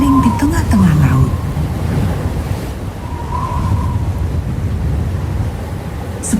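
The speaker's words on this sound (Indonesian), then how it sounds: "satu angin yang sangat kencang mulai membelah laut" Strong wind parting the sea in a Bible story sound effect, loud roaring gusts over surging waves, with a voice speaking over the start.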